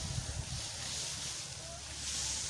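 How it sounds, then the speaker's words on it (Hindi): Strong outdoor wind buffets the microphone in a rural grass-cutting setting, a loud, continuous rushing roar with gusty swells and low rumbling thumps throughout. "आप पीछे की तरफ मेरे से देख सकते हैं कि कितना तेज़ हवा अब आने लगी है"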